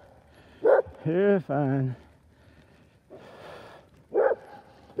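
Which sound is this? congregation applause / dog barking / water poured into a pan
dog barking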